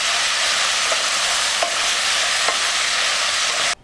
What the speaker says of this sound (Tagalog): Tutuloy lang yung pag-stir fry ng ilang minuto pa.